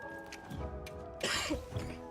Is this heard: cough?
yes